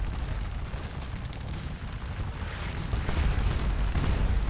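Cannon artillery rumbles through a Napoleonic Waterloo battle in Scourge of War, a dense, continuous low roar of distant booms that thickens and grows louder toward the end, with no talk.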